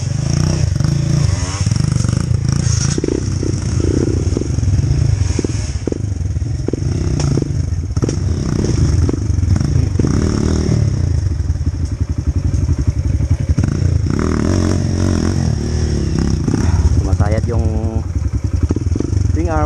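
A motorcycle on a rough dirt trail in Pangasinan, its engine running steadily while the footpegs and underside scrape and clatter against the ground in repeated thumps, with someone talking over it throughout.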